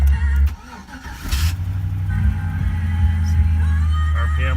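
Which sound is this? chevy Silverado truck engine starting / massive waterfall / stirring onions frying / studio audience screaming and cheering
chevy Silverado truck engine starting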